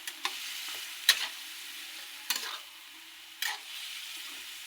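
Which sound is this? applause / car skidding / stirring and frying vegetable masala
stirring and frying vegetable masala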